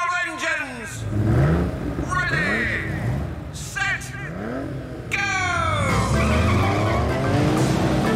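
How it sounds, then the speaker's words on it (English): Cartoon race cars Red Storm, Yellow Hornet and Blue Lightning start their engines and race at a Brooklyn racetrack, with swooping revs, zooms and skids coming in loud, repeated bursts over a busy mix of voices and music. "Drivers, start your engines."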